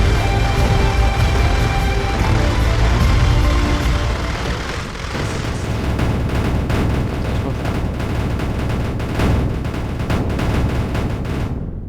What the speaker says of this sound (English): Now that was a very satisfying explosion at the end there.